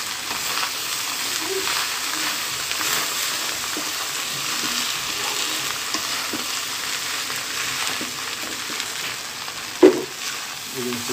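Restaurant-style Thai chicken fried rice frying on full flame, giving a loud, steady sizzle throughout with a few scraping stir strokes and one sharp clink near the end, no voices.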